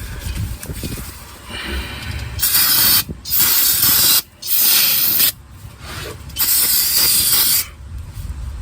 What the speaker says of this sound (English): I'll spray all this off with some brake clean.